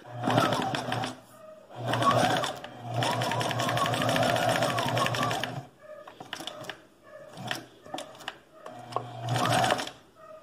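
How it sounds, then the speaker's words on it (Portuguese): A sewing machine runs a diagonal V-neckline seam in several close bursts of rapid whirring, the longest lasting a few seconds, followed by shorter stop-start runs and faint clicks. "Eu costurei então aqui, olha, pelo centro da frente, nessa costura diagonal, esse corte diagonal, tá?"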